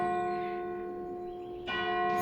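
Church bells ring out in Church Stretton, a steady stack of bright sustained tones that swells louder near the end, with no voices over them.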